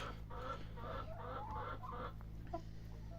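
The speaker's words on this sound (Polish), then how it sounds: "I co, kury dzisiaj na polu wyszły sobie." Several hens cluck softly and continuously outdoors, a low, scattered chorus over a steady background rumble.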